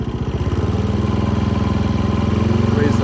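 A Snapper convertible lawnmower engine runs steadily at idle, a loud, close, even chugging throb that keeps going throughout without any break.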